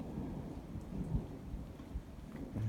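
A summer thunderstorm over Chamalières on 20 July 2018, with low rumbling thunder rolling under a steady hiss of rain, fairly distant and continuous, with no one speaking.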